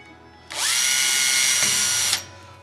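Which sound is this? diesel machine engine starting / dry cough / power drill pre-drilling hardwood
power drill pre-drilling hardwood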